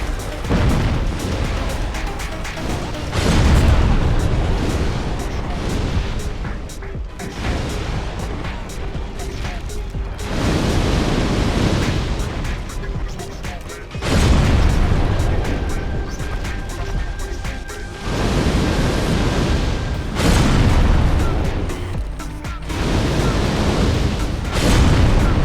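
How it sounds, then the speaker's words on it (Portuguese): A boss in the video game Dark Souls sets off repeated heavy explosions, deep booming blasts that surge and fade every few seconds alongside game sounds, while someone talks over them. "Essa explosão dele é uma merda, mano. Essa explosão dele é um saco."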